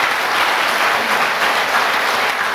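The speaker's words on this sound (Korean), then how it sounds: "베스트셀러가 된 것을 박수로 축하해 주십시오" An audience applauds a former classmate from a since-closed rural elementary school who became a bestselling author, with dense, steady clapping that stays loud and even throughout and has no voices over it.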